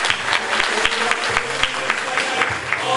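An audience applauds at a student award ceremony in Sultangazi, a dense, steady wash of clapping with a few sharper claps standing out, loud and close, with no talk over it.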